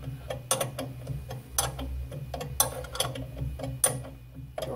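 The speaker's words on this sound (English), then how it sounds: "That's sounding like a bolt being tightened now" A ratchet tightens a bolt with irregular bursts of close clicking and metallic ticks over a low steady hum.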